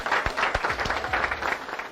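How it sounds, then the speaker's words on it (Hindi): Crowd applause at a Modicare event honoring a mentor, a thick burst of clapping with a few sharp, louder individual claps standing out near the front, steady throughout. "जोरदार तालियां"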